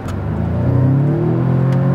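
A used Audi S3 with active exhaust flaps revving loud and close, a steady rising engine drone that builds and holds, with no talk over it.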